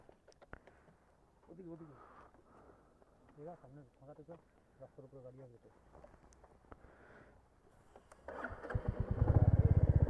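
Motorcycle on a mountain ride from Ahaldhara to Lepchagahat: voices talk over a low, quiet engine hum, then the engine revs up loud and close, roaring steadily through the final seconds.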